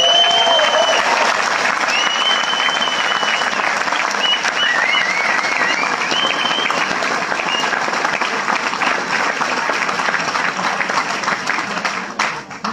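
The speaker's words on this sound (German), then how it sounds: "einmal hier über den Lautsprecher einen fetten Applaus" Loud, dense applause from a crowd of volunteer helpers plays over a loudspeaker. The clapping runs steadily with some whistles and cheers on top, then starts to fade near the end.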